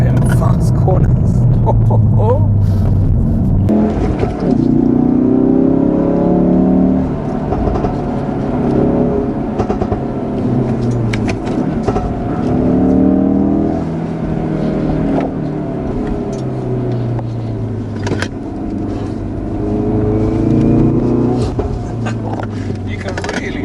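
A Ford Focus RS engine rises and falls in repeated surges as the car accelerates out of sweeping fast bends, heard from inside the cabin under a driver's steady talk.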